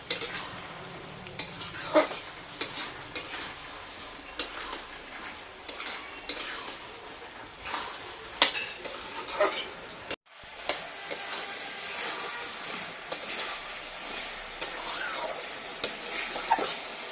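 Prawns fry and get stirred in a pan while cooking mochar ghonto, with steady sizzling broken by repeated scrapes and clinks of a utensil against the pan, close and fairly quiet, with a short pause partway through.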